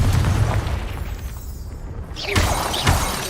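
Confringo blasting spells in Hogwarts Legacy explode twice in quick succession, each a loud shattering boom with crackling debris, over a low background rumble.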